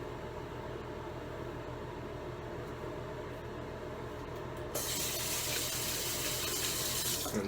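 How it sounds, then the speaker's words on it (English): Water runs steadily from a tap as hands are washed beneath it, a constant close rushing that grows louder and brighter partway through, with no voices. "I'm gonna just wash my hands real quick."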